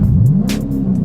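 A Chrysler 300S engine revs in a short, loud burst, a deep rumbling growl that rises slightly in pitch and holds steady, close by and alone without speech.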